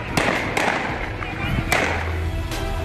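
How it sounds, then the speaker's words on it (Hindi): Gunshots fired openly in a Ghaziabad street in broad daylight: several sharp cracks stand out over steady crowd noise and a murmur of voices. "सरेआम इस तरह से फायरिंग की गई।"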